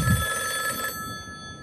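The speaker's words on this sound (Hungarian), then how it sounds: "A telefon ugye itt a két világ közt" An old-style telephone bell rings insistently during a live stage performance of The Matrix, a loud continuous metallic trill that cuts off abruptly, leaving a faint hum behind.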